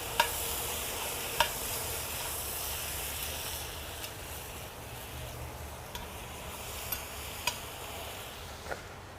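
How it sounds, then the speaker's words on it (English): Sweet peppers in a hot pan give a quiet, steady sizzle, with a few sharp clicks and taps of stirring scattered through it, no talk. "Just give that a good stir."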